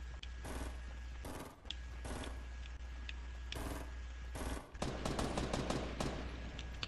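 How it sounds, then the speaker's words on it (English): Gunfire close by in Fortnite, a series of sharp separate shots in short bursts, then a quicker rapid-fire stretch near the end, over a low steady hum. "You're shooting real close."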